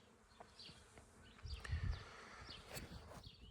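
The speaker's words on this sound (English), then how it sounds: "There are so many bees in that tree." Bees buzzing steadily in a tree, with insect drones weaving in and out over a low rustle, close and continuous throughout.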